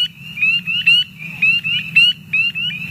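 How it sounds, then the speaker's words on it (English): Spring peeper frogs call at breeding pools, loud high-pitched rising peeps repeated in quick rhythmic bursts, several overlapping nearby, over a low steady background hum. "High-pitched peep sounds announce the arrival of the spring peepers to the breeding pools."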